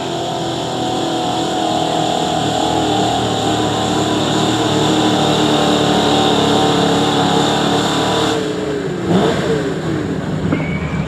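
A pulling truck at a truck and tractor pull in New Lexington, Ohio roars loudly and continuously at high revs, its engine note wavering and dropping briefly near the end.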